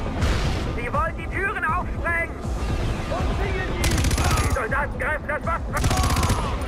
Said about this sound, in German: Eine Granate, nimm das.